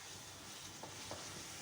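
Chicken frying in masala in a home kitchen pan, giving a faint, steady sizzling hiss throughout with a couple of soft stirring scrapes and no voices.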